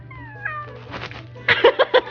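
A cat gives a series of loud, close meows, a couple of drawn-out cries at first and then several short, sharp ones in quick succession, over a low steady hum.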